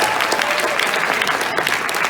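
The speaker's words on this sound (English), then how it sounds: "one more round of applause for everyone on the staff" Anime convention audience giving a round of applause for the staff, a loud, sustained roar of many hands clapping with faint crowd noise mixed in.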